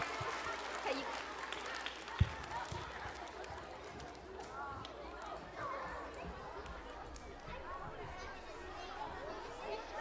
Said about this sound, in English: let's go ahead and clap for Holy and Nicole Team one more time